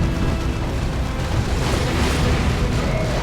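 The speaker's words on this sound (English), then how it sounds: "he actually got hit hard by double las cannon Predators from Templar money." Twin lascannon Predator tanks fire on units in Dawn of War II: Retribution, a loud, dense barrage of booming blasts and explosions layered over continuous battle noise, with no voices.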